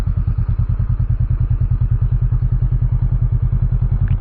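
A motorcycle engine idles close by with a steady, rapid thumping pulse and a low, loud chugging rumble that continues evenly throughout.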